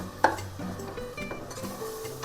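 Ground masala paste for soya chunks biryani scraped and stirred in a metal pot, with a sharp utensil clank near the start followed by steady scraping and clinking, faint sizzling underneath.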